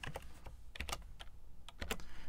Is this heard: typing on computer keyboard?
yes